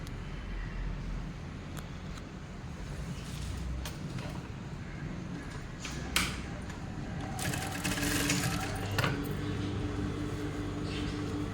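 A sewing machine stitches the side seam of a chudidar, a steady low mechanical whir running throughout at moderate level, with a few brief clicks and a busier burst of stitching near the end.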